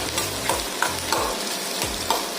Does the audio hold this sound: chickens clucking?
no